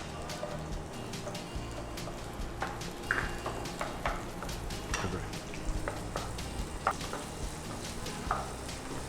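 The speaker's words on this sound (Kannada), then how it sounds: "ಸೊ ನೀರುಳ್ಳಿ ಕಂಪ್ಲೀಟ್ ಫ್ರೈ ಆಗಬೇಕಾ?" Onions fry in a pan with curry leaves and ginger-garlic paste, a soft continuous sizzle with scattered crackles and light stirring scrapes, fairly quiet and without talk.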